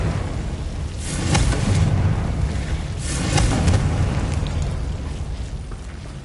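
Confringo spell explosions in Hogwarts Legacy, two loud bursts about two seconds apart, each swelling into a rumbling roar over a continuous, noisy background.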